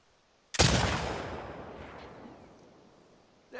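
A single loud rifle shot in The Last of Us Part II, a sharp crack followed by a long rolling echo that fades over about three seconds, with no talk over it.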